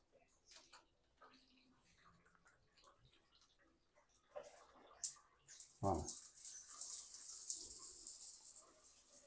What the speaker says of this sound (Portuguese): Eu vou ligar a água até encher o chuveiro.